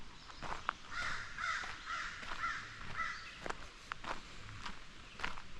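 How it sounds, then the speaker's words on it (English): A crow caws several times outdoors, repeated harsh calls spaced through the clip, mid-distance, over footsteps on a walk with steady background ambience. "Yeah, that's a crow."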